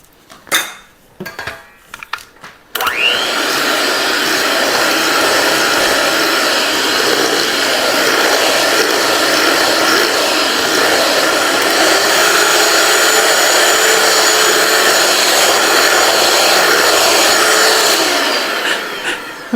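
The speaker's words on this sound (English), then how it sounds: "The mixer's shooting butter everywhere." An electric hand mixer whirs steadily while beating butter for peanut butter cookie dough, a loud continuous motor drone lasting about fifteen seconds after a few brief clatters at the start.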